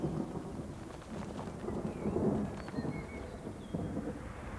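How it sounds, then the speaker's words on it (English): A storm's rumbling thunder rolls in from a distance over steady falling rain, with a swelling low boom midway and a few faint bird chirps above the wash of rain. "We heard the thunder and the lightning in the distance"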